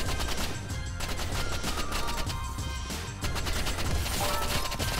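Guns in Roblox Rivals fire in dense, continuous rapid volleys with mechanical clatter, loud and close throughout, with no clear talking.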